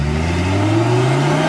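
A loud Lamborghini Huracan's naturally aspirated 5-litre V10 engine revs up close, its pitch climbing smoothly with a rich, throaty drone throughout.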